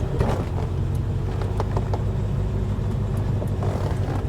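A car passes nearby in a market parking area, heard from inside or beside a Mercedes. A continuous low engine rumble and road noise hold steady throughout, with a few faint clicks on top.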